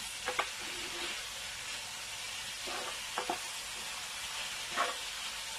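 Continuous sizzling of food frying in a pot, a steady hiss with a few light clinks of a utensil against the pot.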